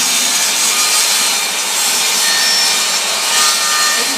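A table saw blade raised through wood while the workpiece is turned to cut a circle, giving a steady, close, loud rasping hiss of the blade scraping and biting the wood, with no talk.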